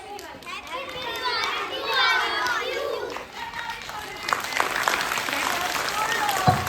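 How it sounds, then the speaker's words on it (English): Audience applause at a school Diwali celebration for the dancers who just performed, building into broad clapping in the second half after a stretch of children's chatter and voices. "Big claps for our wonderful dancers."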